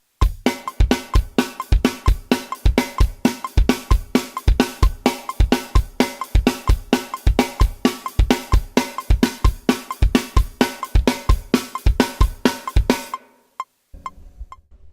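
A drum kit pounds out a fast, simplified version of a rock beat, with punchy kick and snare hits, then stops abruptly, leaving a few faint stray taps.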